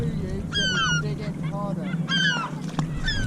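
A seagull hooked on a fishing line squawks in repeated harsh, rising calls, close and loud, with short breaks between bursts over low background noise.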